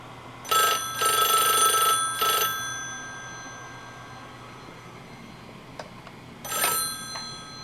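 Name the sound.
telephone bell ringing on a party line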